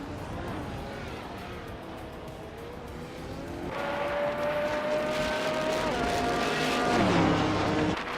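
Can-Am race cars in a video game race, engines whining and rising in pitch as they accelerate along the track. A continuous close drone swells louder toward the end, with no talk.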